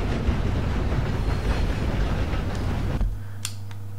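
Moving train in the Red Dead Redemption 2 video game, a loud continuous rumble of rolling wagons and wind that cuts off abruptly, leaving a low steady hum and a couple of faint clicks.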